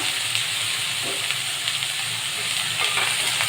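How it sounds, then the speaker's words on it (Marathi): Chopped tomatoes and other vegetables, cut fairly large, are sautéed in a pan with green peas about to join, giving a steady, moderate sizzle and hiss with faint stirring scrapes and no talk. "असं सगळं परतून घ्यायचं आपल्या भाज्या"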